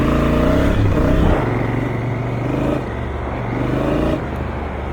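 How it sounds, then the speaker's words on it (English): A motor vehicle, most likely a truck, roars past close by on a road with grassy, sandy ground nearby, its engine tone rising and falling as it approaches and recedes against steady road and wind noise. "Sometimes trucks come out of the blue."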